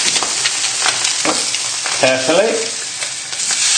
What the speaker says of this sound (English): So my pan's smoking now with the fish